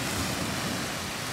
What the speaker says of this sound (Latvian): Jūra.